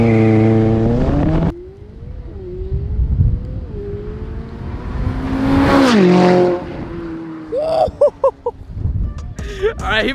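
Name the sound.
McLaren 570S accelerating hard with launch control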